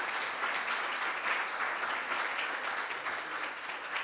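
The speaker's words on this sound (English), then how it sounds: "we deserve a warm applause for our panel members for this discussion" Warm audience applause for panel members at a patients' organisation conference session, a dense, steady wash of clapping from many hands that holds evenly for about four seconds with no voices over it.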